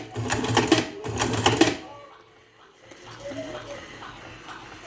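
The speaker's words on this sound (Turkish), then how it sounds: "Şöyle birkaç tane sarım yapayım. Makine bayağı hızlı." A homemade cigarette rolling machine with a MOSFET control board and a filter-tube sensor runs fast in two loud bursts of whirring, rattling mechanism, then drops to a quieter mechanical hum.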